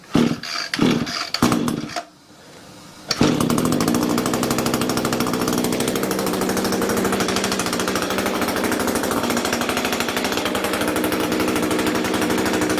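Gas weed eater string trimmer engine on choke, first sputtering in short bursts, then catching and running steadily at a fast, loud, buzzing idle close by.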